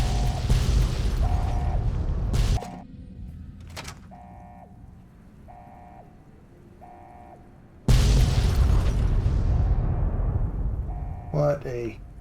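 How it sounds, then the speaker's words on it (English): Explosions keep going off in the video game Fallout: New Vegas, Lonesome Road, at a missile site. Loud booming blasts fill the start and end, with quieter mechanical beeps and tones between them. "Freaking explosions are still going off,"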